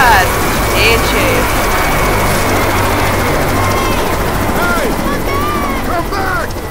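A helicopter in the Left 4 Dead 2 Dead Center level drones loudly and steadily as it flies off, its rotor and engine noise mixed with in-game shouting, voices and scattered effects.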